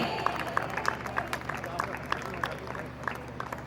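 Scattered clapping from a school festival audience cheering a young LKG girl, crisp hand claps steady across the moment over a murmuring crowd and background voices.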